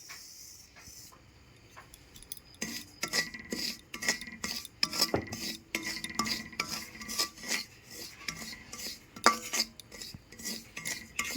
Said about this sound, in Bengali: আমি আবার কড়াইটা পরিষ্কার করে বসিয়ে দিয়েছি এখন আমি সুজি ভেজে নেবো